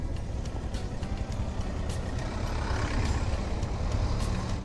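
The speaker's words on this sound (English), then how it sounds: "the bus which is ahead us is the state transport bus of North Bengal" Heavy road traffic rumbles steadily on a mountain road near Darjeeling, with a North Bengal state transport bus running just ahead; a continuous low engine drone and road noise fill the scene with no breaks.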